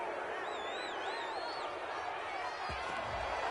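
Video game football broadcast crowd reacting to a penalty call, a steady roar of stadium noise throughout with faint whistling whoops near the start and a couple of low thumps toward the end.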